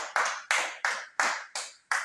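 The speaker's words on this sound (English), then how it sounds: "Clap him in." An audience in a hall claps in unison at a talk on the fire service: six sharp, evenly spaced claps ring out, each one fading with room echo before the next.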